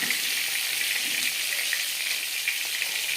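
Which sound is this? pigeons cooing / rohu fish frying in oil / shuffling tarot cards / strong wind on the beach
rohu fish frying in oil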